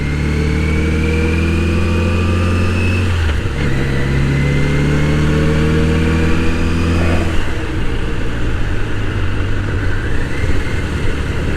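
Kawasaki Voyager 1200 touring motorcycle engine heard while riding, a steady loud drone with harmonics that shift as the revs change, dipping briefly around gear changes, with no talk.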